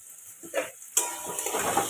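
Curry leaves dropped into a hot pan and stirred, a sudden sharp sizzle bursting up and then settling into steady frying crackle, with a few spoon scrapes close by.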